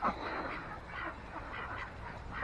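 Pekin ducks quack at moderate distance in a yard, a few scattered nasal calls over soft background noise with no talking.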